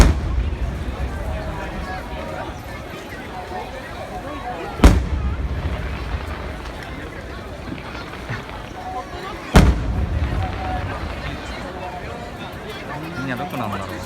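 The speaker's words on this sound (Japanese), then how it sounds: "花火が綺麗です。" At a summer fireworks festival, two sharp, heavy booms go off about five seconds apart over a continuous murmur of a large crowd and people talking nearby.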